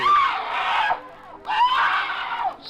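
A woman's loud scream in an old-time radio crime drama, two long shrill cries separated by a brief pause, each rising and wavering in pitch.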